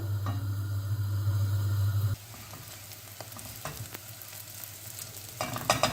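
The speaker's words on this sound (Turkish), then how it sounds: "Pirinçlerim kavruldu." Rice toasting in a pot with a spoonful of butter and half a tea glass of olive oil for anchovy pilaf, a steady close sizzle with a loud low hum early on, then softer frying with scattered clicks of stirring.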